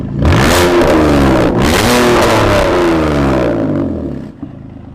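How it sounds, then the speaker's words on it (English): A concept car engine revs hard in repeated loud surges, each with a whipping rise in pitch that falls into a deep growl, then fades out near the end. "It's got like a whip and then a deep growl."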